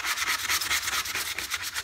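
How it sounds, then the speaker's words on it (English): A plywood kunai is sanded by hand in quick, steady back-and-forth strokes, a close, rhythmic gritty rasp with no voices. "And while I'm sanding this"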